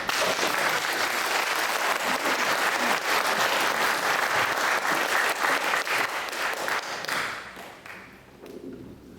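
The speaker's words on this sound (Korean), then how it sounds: "크게 우리 박수 치면서" A large church congregation applauds steadily for several seconds to welcome the pastor, then the clapping thins out and fades near the end.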